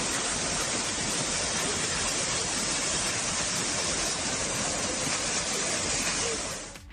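Waterfall in Kullu Manali, Himachal Pradesh, roaring as a steady, dense broadband rush of falling water that stays constant and loud throughout before fading slightly at the end.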